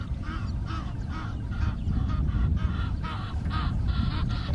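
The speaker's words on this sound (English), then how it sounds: "Egyptian geese flapping away" Egyptian geese on an African safari airstrip give rapid, harsh honking calls in quick repeated bursts, close and loud over a rumbling outdoor background, with no talking heard.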